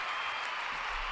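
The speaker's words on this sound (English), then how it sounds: "You get a big cheer." A crowd cheer and applause sound effect, a brief dense burst of clapping and cheering, loud and continuous for about a second.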